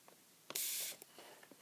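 A spray bottle gives one close, crisp hissing spritz onto a surface in a quiet soft-spoken ASMR setting, surrounded by faint small taps and handling sounds.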